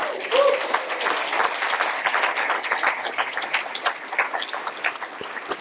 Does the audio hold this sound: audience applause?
yes